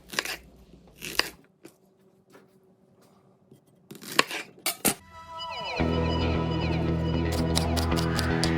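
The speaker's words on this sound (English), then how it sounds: "Mince 1 shallot." Knife chopping a shallot on a cutting board, a few sharp, separate cuts followed by a rapid, continuous run of close chopping.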